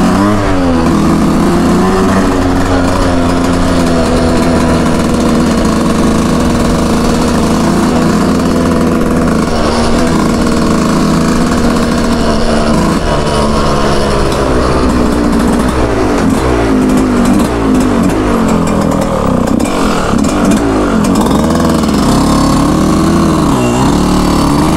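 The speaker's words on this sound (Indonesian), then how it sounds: "Teman-teman bisa dengar suara mesinnya ya" Yamaha YZ125 motorcycle engine in GTA Los Santos, running continuously with a loud, steady drone and wavering pitch that rises and falls as it revs, alone without talk.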